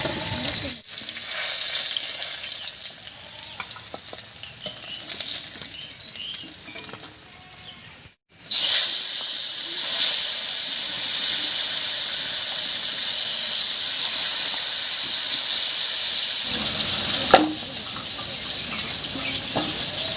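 Snakehead fish pieces sizzle in oil with a constant, hissing fry close at hand. The sound cuts out briefly once, then resumes just as strongly and runs on without speech, with a single clack near the end.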